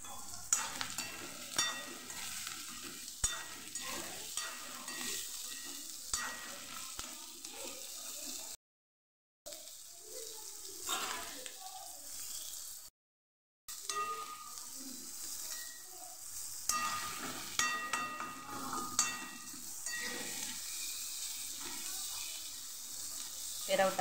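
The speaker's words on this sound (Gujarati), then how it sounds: "ડુંગળીનો કલર બદલાઈ જાય ત્યાં સુધી આપણે એને સાતળવાની છે." Onions sauté in a pan with salt, a continuous soft sizzle broken by scraping and stirring strokes; close and moderately quiet, with two brief dropouts and no talking.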